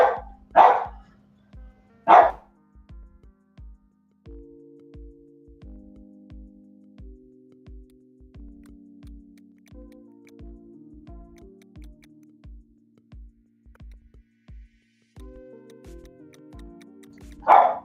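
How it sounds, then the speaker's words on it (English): A dog barks loudly and close by in a few sharp bursts, spread across a long stretch beside a steady ticking, with faint low tones underneath. "Can you talk while the dog's barking?"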